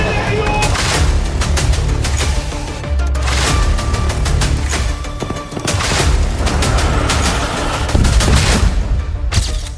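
Israeli air strikes on Gaza bring dense, loud volleys of gunfire and booming explosions, repeated bursts crowding one another across the whole stretch, with voices faintly mixed in.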